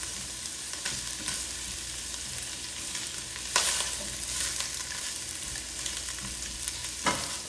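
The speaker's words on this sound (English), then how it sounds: "the shrimp, you just really want to turn them pink. So I'm just kind of stirring it the whole time" Shrimp stir-frying in a hot pan, stirred continuously, giving a steady bright sizzle with occasional louder scrapes of the utensil against the pan.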